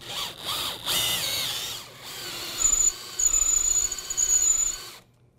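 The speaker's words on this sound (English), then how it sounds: "I'm now using a 7/16 drill bit to drill a 2-inch deep hole for the leg leveler." A power drill with a 7/16-inch bit whines in short bursts, then bores steadily into wood with a rising, grinding buzz, cutting a 2-inch deep hole, before cutting off abruptly; close and loud.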